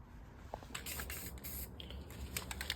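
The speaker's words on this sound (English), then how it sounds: "we're just getting it ready to spray paint it" Aerosol spray paint hisses in short bursts onto a 200cc go-kart frame during a restoration, several close, airy spurts with brief pauses between them, no talking.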